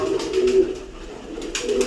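Pigeons kept in pairs coo in soft, low repeated phrases, two clear bursts near the start and another at the end, close by with a faint hum behind them.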